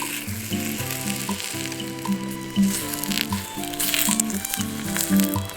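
Touton dough sizzles and crackles in hot oil in a pan, a continuous bubbling fry close by with occasional pops.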